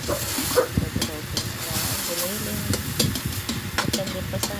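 Chopped tomato going into a hot pan of sautéed onion for ginisang upo, a steady sizzle and hiss with scraping stirs and clinks of a spatula throughout, close and fairly loud.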